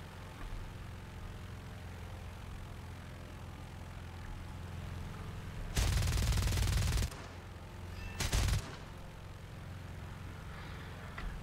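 Bursts of aircraft machine-gun fire from an IAR 81C fighter in a flight combat game, two loud volleys, one about a second long and a shorter one after, over a steady drone of propeller engine.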